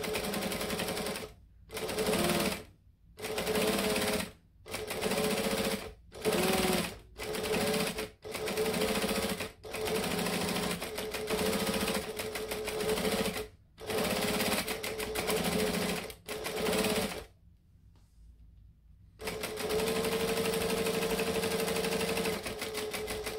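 A sewing machine stitches a red and green strap in a run of short bursts, each a fast mechanical whirring chatter separated by brief pauses, ending in one longer continuous stretch after a silent gap.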